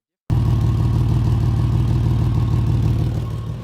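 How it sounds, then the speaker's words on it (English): A stock car with an exhaust leak rumbles loudly and steadily like a hot rod, a deep, throbbing low-pitched drone heard close by that holds for several seconds before easing off slightly at the end. "Loud exhaust like a hot rod."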